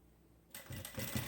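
Sewing machine stitching fabric while making a plush animal toy starts up abruptly and runs as a close, fast rhythmic whirring chatter.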